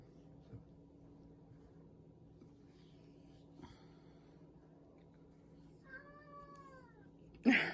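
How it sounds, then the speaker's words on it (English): A pet cat meows outdoors near the end, a couple of drawn-out, rising-and-falling cries heard faintly from a distance in an otherwise quiet indoor room, followed by a sharp, louder knock. "my cat's meowing at my husband outside."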